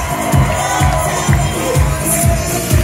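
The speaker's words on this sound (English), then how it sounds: "One more time, a big round of applause for your newlyweds." A wedding crowd cheers and claps for the newlyweds in a chapel, a loud steady roar of voices with rhythmic low pulses underneath, close and continuous throughout.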